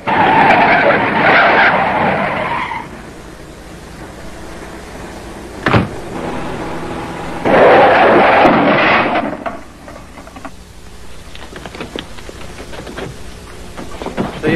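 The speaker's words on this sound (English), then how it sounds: "Now, slam on your brakes." A car screeches into a hard skid, tires hissing in two long bursts separated by a sharp thud, then rattling settles into quieter scattered clatter.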